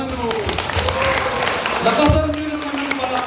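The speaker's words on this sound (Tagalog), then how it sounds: "Palakpakan nyo naman" Audience applause at a birthday gift-giving during a Christian ministry gathering: steady, continuous clapping throughout, with voices talking over it.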